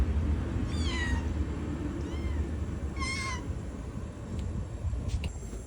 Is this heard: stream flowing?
no